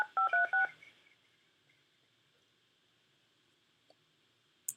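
Telephone keypad dialing tones: a quick run of about five beeps at the start, then near silence with faint clicks.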